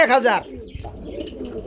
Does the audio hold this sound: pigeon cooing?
yes